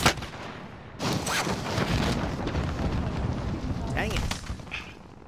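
Gunfire in the Warzone video game erupts in a dense burst of loud shots and booms, followed by a few sharper cracks, while a player's voice briefly speaks over the action.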